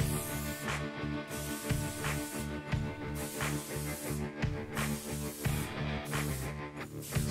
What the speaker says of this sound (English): Spraying the terracotta on the tabletop here are moving super fast across the surface.